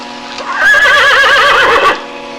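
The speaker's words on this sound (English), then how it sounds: "Jack, I got the horses" Horses neigh in a loud, close whinny lasting over a second, with a quivering pitch that rises and falls, set against faint background noise.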